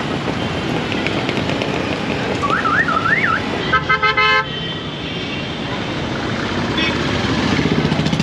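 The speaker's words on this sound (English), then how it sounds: "The traffic never stops." Busy Chennai road traffic rumbles close by in a dense, continuous wash, with a warbling car horn or alarm and a stuttering honk standing out midway, and more horn toots toward the end.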